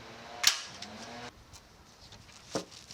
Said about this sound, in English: Then I applied a foam seal barrier using a staple gun.